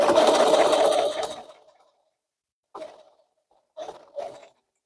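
A sewing machine stitches quilt appliqué in a quick continuous whir that slows and stops, followed by three short separate bursts of stitching after a pause.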